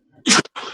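A single sharp sneeze bursts out close and loud, preceded by a faint intake of breath and followed by a short trailing exhale.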